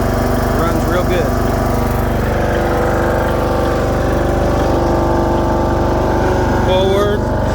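A Toro TimeCutter 16-42Z zero-turn riding lawn mower with a 42-inch deck runs steadily outdoors, its engine droning loud and close with an even rumble throughout.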